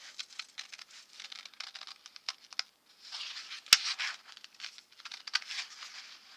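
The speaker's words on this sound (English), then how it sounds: "Now I'm just going to kind of roughly cut to get rid of all this excess paper that I don't need." Large scissors roughly cutting away excess paper, a steady series of close, crisp snips and crinkling rustles with brief pauses and one sharp click partway through.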